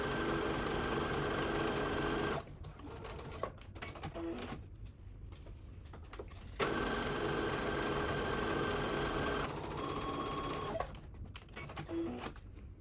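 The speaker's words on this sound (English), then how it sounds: "I'm going to go ahead and sew both side seams on a 1/4 inch seam allowance" Sewing machine running 1/4 inch side seams on a filtered fabric face mask, a steady close mechanical whir in long stretches broken by brief stops and restarts.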